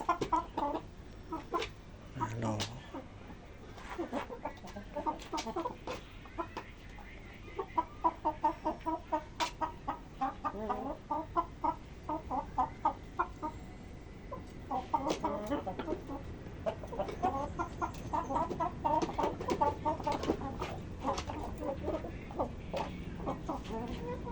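Hens and roosters of a Thai game-fowl breed cluck and call repeatedly at close range in a farmyard, with bursts of rapid clucking and occasional crowing, while someone talks intermittently over them.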